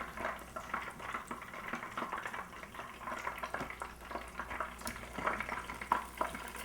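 Steady low sizzle of hot oil with scattered small pops and crackles as tempura deep-fries, moderately quiet and continuous, no voices.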